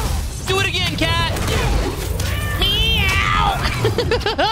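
A cat meowing in the Spider-Man: Miles Morales video game, several rising, wavering meows amid game combat noise with impacts, while players talk and laugh over it.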